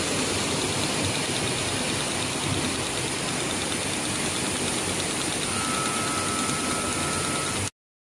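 A XIESHUN folder gluer machine runs steadily, giving a continuous dense mechanical whir with faint ratcheting and gear clatter; a thin high tone joins near the end before the sound cuts off abruptly.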